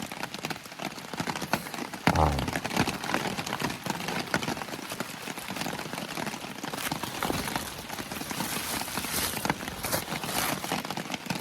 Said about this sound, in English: Hear that water? It's still doing it.